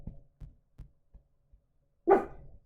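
A neighbour's dog gives a string of soft, evenly spaced yaps, then ends with one louder, sharper bark. No one speaks over it.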